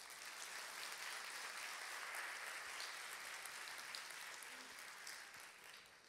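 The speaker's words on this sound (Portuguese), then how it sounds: "Você podia aplaudir o Senhor por isso?" A church congregation applauds together in a steady, fairly quiet wash of clapping that carries on without a break and thins slightly toward the end, with no speech over it.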